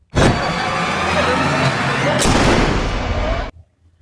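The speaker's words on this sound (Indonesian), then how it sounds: "Penyusup pria pun menyerang dan menembak Casey" Gunfire in the 2021 thriller film Masquerade, a sharp loud shot followed by a long rumbling echo, then a second blast midway that decays before the sound cuts to silence.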